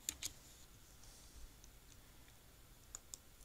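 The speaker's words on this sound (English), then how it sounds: "So I'm going to type in the password test" Faint, sparse key clicks from typing a password on a computer keyboard: a few quiet taps at the start and end, with near-silence between.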